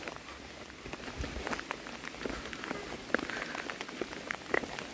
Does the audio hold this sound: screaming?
no